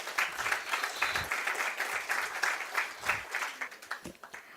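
Applause at a water and waste solutions factory inauguration in honour of its first female employees, moderately distant steady clapping from a gathered crowd that tapers toward the end.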